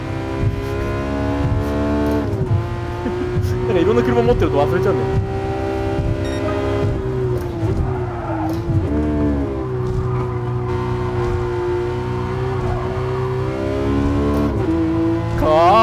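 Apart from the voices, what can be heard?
Porsche GT3 RS engine driving in Gran Turismo Sport video game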